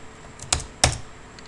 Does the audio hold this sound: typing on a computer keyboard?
yes